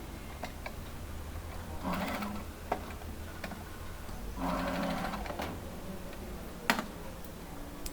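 Sewing machine stitching along the edge of a saree blouse belt, steady close mechanical whirring in two bursts with sharp ticks and clicks between runs.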